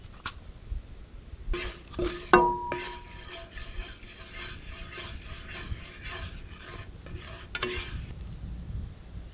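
Butter frying in a pan for eggs at an outdoor cooking setup, a faint steady sizzle broken by a few clattering utensil scrapes and knocks against the pan.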